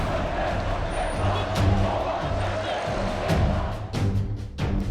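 Street protest crowd roars in a dense, continuous wash of many voices and cheering, with scattered claps and sharp bursts cutting through, including a brief high car-horn tone.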